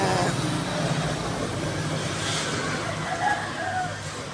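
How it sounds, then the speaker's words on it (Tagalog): An e-bike ridden as a small motorbike passes along a road in a casual outdoor setting, giving a steady low motor hum with faint background noise and no clear peak, heard at moderate distance. "Ayan ang motor ni Daddy Be."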